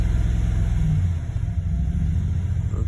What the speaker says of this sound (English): So what I got here is cylinder 6, cylinder 7, cylinder 8, constantly misfiring at a similar rate,